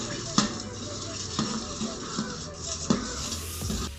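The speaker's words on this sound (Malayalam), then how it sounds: "ഇനി നമുക്കിതൊന്ന് ചെറുതായിട്ട് മിക്സ് ചെയ്ത് കൊടുക്കാം." A mixture of used cooking oil for biodiesel being stirred in a container, with soft swirling and faint sizzle-like noise broken by three clear knocks of the stirrer against the side, roughly a second or more apart.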